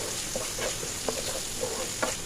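A Bengali bombay duck (lote macher jhal) curry is stirred in a pan after water and a little sugar go in: faint, soft scraping taps recur every half second or so over a low simmering hiss, with no talking.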